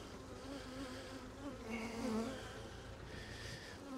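Honeybees in a commercial beekeeper's hive drone in a dense, continuous buzz, close and fairly quiet, with no talk.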